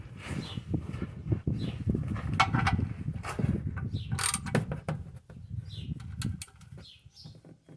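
A wrench torques the oil drain plug, fitted with a new crushing washer, on a Kawasaki Mule Pro FXT, giving a run of close, crisp ratcheting clicks and metallic creaks in irregular bursts, with no voices.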